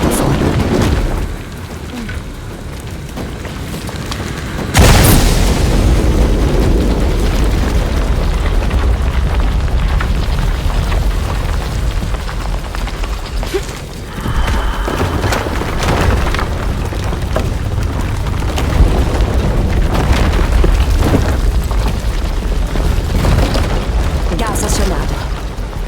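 A deep booming explosion in the video game Shadow of the Tomb Raider bursts in loudly, followed by sustained rumbling and a second, softer blast further on, with game ambience between.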